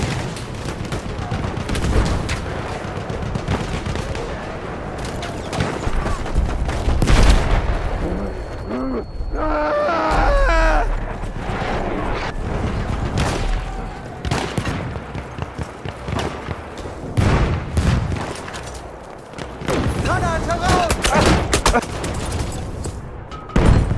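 Gunfire and explosions in Battlefield 1 multiplayer Rush mode: loud rapid shots and heavy blasts pound close and far in dense bursts, with player voices talking over the chaos.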